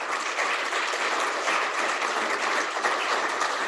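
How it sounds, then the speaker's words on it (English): A crowd claps steadily throughout at an awards luncheon, a dense even patter of many hands at moderate volume with no voices. "Let's give them a round of applause."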